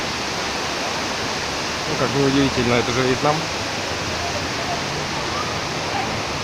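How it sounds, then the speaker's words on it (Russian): Pren waterfall in a green park in Dalat, Vietnam, gives a steady, broad rushing roar of falling water, while someone talks briefly over it. "Водопад, за стену которого мы ходили."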